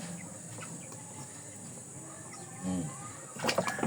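Chickens and a rooster in a backyard flock, soft low clucking through most of the stretch, then a louder burst of squawking at the end, with faint speech in the background.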